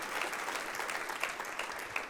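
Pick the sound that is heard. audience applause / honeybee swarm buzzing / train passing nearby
audience applause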